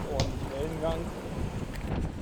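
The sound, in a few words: strong wind on a sailboat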